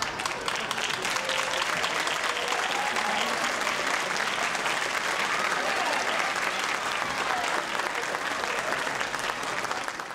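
An audience at a nursing candle lighting ceremony claps for the nurses, with dense, sustained applause filling the room evenly throughout.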